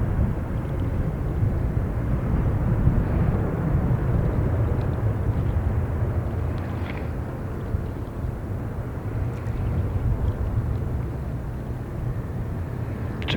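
A Boeing 777 airliner on short final in high crosswinds gives a steady, heavy roar of engine and wind rumble that stays loud and even throughout, with no voices.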